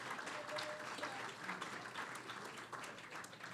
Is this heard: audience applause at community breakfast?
yes